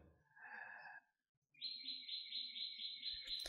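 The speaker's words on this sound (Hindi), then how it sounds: "सुबह का टाइम है चिड़िया चहकने लगती है" Birds chirp in the morning, a steady, fairly loud trilling call running without a break through the second half after a brief softer sound at the start.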